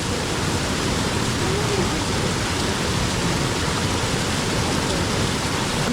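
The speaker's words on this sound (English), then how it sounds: "let me get in front of the waterfall" A waterfall at a freshwater swimming spot in Fiji roars close by, a loud, steady broadband wash of falling water that runs unbroken and alone from start to finish.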